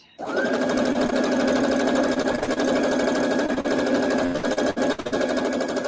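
Close and loud, a sewing machine runs in one unbroken steady whir as two quilt pieces are stitched together for a beginner's first full quilt top.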